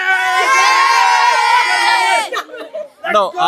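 Schoolchildren cheering for Germany's team, a loud sustained crowd of high-pitched shouts and screams that breaks off into scattered excited yells.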